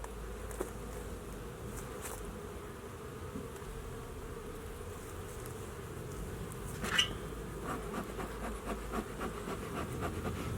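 Honey bees hum in a soft, steady drone during a beehive inspection in Colorado, individual bees buzzing close past now and then, with faint handling sounds and no talk.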